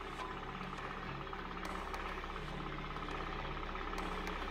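A car engine idles while an alternator and battery test runs with no loads switched on, giving a steady, low mechanical hum with a faint, regular pulsing throughout.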